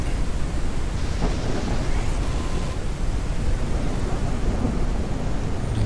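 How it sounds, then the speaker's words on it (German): A thunderstorm in the game Forever Skies: a steady, loud wash of rain with low rumbling thunder rolling underneath, continuous throughout with no talking. "Und jetzt fängt es schon wieder das Stürmen an."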